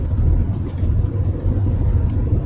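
A car pulls away and drives off on a village road, its engine a loud, steady mid-pitched rumble close by and alone for a couple of seconds.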